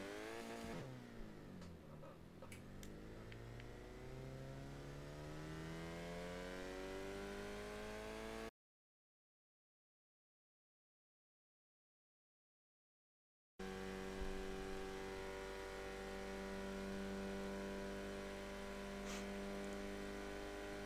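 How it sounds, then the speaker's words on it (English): A Bugatti Veyron fitted with a Reliant engine accelerates in the racing game Forza Horizon 3, a thin droning engine note climbing steadily in pitch, broken by a few seconds of total silence before the rising whine resumes. "A 0-60 time in this Veyron with a Reliant engine."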